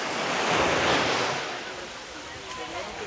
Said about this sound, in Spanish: No esperaba una playa tan linda